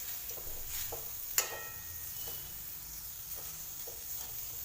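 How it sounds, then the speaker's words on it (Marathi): Amla candy sautéed with cloves and cinnamon pieces in a pan gives a faint, steady sizzle and hiss, broken by a few soft scraping stirs and one sharp clink of a utensil against the pan. "मी आवळा कॅन्डी त्यात टाकायची आणि याला छान परतूर परतून घ्यायचं"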